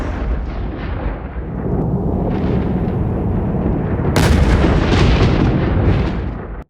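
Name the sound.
lightning strike on plane, loud buzzing and explosion sound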